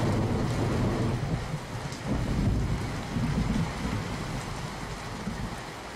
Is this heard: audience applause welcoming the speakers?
no